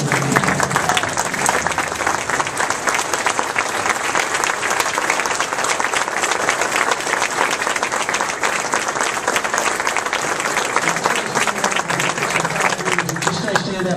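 A standing audience at a college and career academy event bursts into steady, crowded applause that continues throughout, close and loud, with scattered voices underneath.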